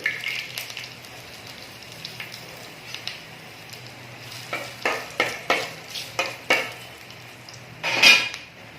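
Coriander seeds and dried red chillies sizzle in hot oil in a pan for a Rayalaseema-style tomato rasam tempering, a steady frying hiss broken by a run of sharp scraping stirs and one louder burst near the end.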